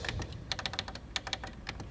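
Short, crisp clicks of keys pressed on a Yamaha LS9 mixing console, an irregular run of quiet taps close to the microphone, heard alone without talk.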